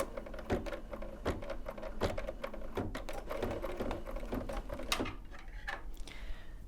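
An embroidery machine stitches a placement line in brown thread, a fast, steady mechanical chatter of needle strokes with regular thumps that slows and stops near the end, close up and without speech.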